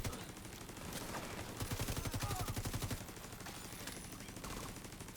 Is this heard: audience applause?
no